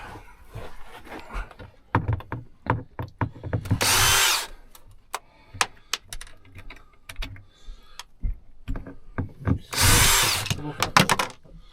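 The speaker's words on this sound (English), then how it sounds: "Right, normal screw drill. Let's get this light out." Two short whirring bursts of a power screwdriver removing light fitting screws among many close clicks, taps and rattles of handling metal parts during a tour bus conversion.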